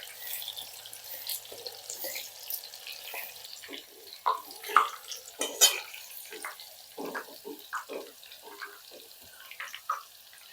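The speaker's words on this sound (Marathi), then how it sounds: "मी यामध्ये दोन केळी टाकत आहे" Soft sizzling and crackling of banana slices frying in hot oil for chips, quiet and close, with a few sharper pops and spatters scattered through.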